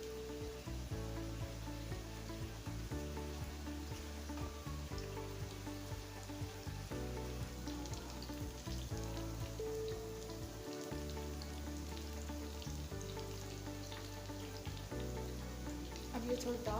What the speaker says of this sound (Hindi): अब हम इसी तरीके से अपने बाकी कोफ्तों को भी फ्राई कर लेंगे।